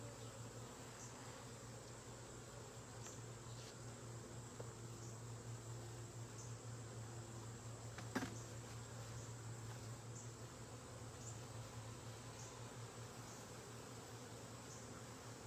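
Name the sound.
disturbed honeybees buzzing at an opened beehive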